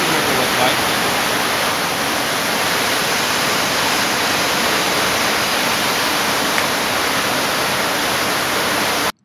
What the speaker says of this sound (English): This is what the river looked like.